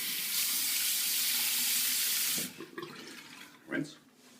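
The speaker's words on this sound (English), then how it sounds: "we're going to rinse with some hot water." Hot water runs loudly from a tap to rinse a razor blade during a shave, a steady close hiss that stops abruptly halfway, followed by brief splashes and faint handling.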